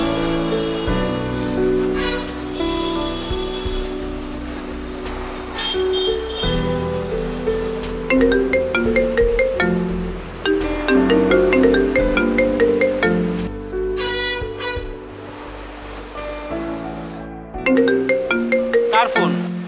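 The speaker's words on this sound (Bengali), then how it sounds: "কার ফোন?" A mobile phone plays a melodic ringtone continuously, loud and close, repeating its tune for nearly twenty seconds in an indoor drama scene.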